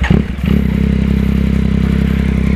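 Yamaha XSR900 motorcycle without a silencer, with a brief rough burst of throttle followed by a loud, close, rhythmic pulsing idle.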